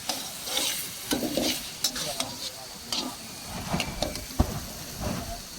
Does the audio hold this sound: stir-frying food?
yes